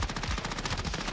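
Rapid automatic gunfire in the video game Warzone rattles off in a tight, continuous burst of many shots, dense and fairly loud over a short span, no talking.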